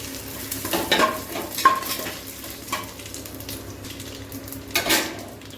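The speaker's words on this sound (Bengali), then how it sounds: "গরম হয়ে গেছে, এর মধ্যে আমি তেজপাতা, গোটা গরম মশলা, জিরা টিরা সব দিয়ে দিব" Bay leaves, whole garam masala and cumin crackle in hot mustard oil: uneven bursts of sizzling and a few spoon knocks against the pan, fairly quiet, with no talking.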